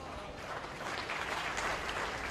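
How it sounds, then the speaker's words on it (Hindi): An audience claps together in a hall, a dense, steady wash of many hands that holds level from start to finish, fairly quiet and with no voice over it. "ताली किसके लिए बजा रहे हो मेरे भाइयों?"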